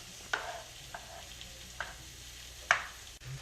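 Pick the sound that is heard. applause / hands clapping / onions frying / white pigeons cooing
onions frying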